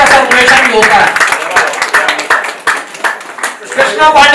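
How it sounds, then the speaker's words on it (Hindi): An audience claps at an awards ceremony, brisk scattered handclaps rising and falling in bursts while a voice keeps talking over them. "जोरदार ताली से"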